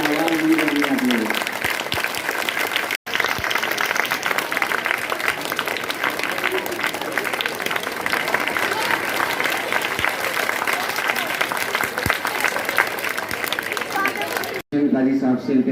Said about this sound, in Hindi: सिर्फ तालियां बजाना है, आवाज नहीं करनी आप लोग।